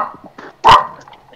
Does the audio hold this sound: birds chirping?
no